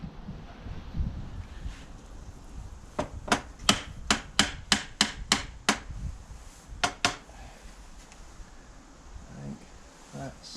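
An old spirit level whacks a piece of reclaimed wood in a small shed, a quick run of about eight sharp knocks followed by two more, fairly loud over quiet background noise.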